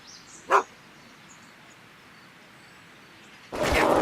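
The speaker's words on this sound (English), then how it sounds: "Get away from me, you crazy mutt." A dog in the Back to the Future video game gives a short sharp bark, then a second, louder, longer burst a few seconds later over quiet background hiss.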